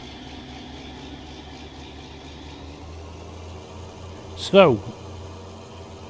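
A Farming Simulator 19 tractor engine drones steadily at low pitch throughout, with a brief rising tonal sweep near the end and a speaking voice over it.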